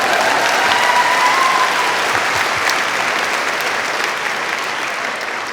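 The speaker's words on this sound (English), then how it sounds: "I didn't write pause for applause." A large commencement audience breaks into sustained applause, a dense, loud wash of clapping that holds for several seconds and tapers slightly toward the end.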